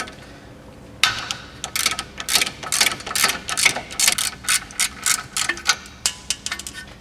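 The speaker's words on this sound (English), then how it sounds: "next we're going to remove this 17mm nut that's holding our outer tie rod in" Rapid ratchet clicking in quick strokes, close and clear, as a 17mm outer tie rod nut, a locking nut, is removed from a car.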